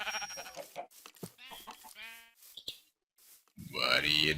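A sheep bleats once, loud and close, in a video game, right after a stretch of someone talking.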